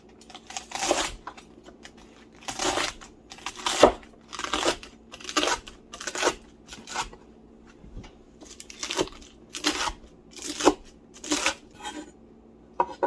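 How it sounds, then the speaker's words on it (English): Romaine lettuce is chopped with a knife, about a dozen crisp crunching strokes in an irregular rhythm, heard up close with quiet pauses between cuts. "First, we're going to chop up some romaine lettuce."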